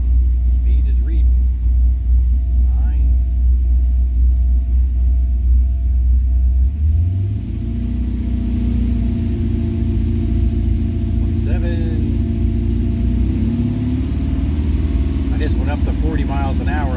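A Porsche 944 fitted with an LS V8 engine pulls away in third gear as the clutch is let out, its low engine rumble steady and close, rising slightly in pitch partway through, with occasional voice over it.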